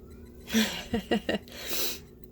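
A cat meows repeatedly from another room, muffled and somewhat distant, with a few short calls in a row.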